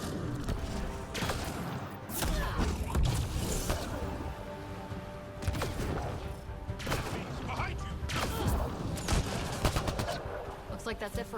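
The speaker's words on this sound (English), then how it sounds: "Who else is shooting at me?" Gunfire in a Mass Effect Andromeda combat encounter, repeated bursts and single shots cracking in irregular clusters, with impacts and crashes mixed in over a constant rumble of battle.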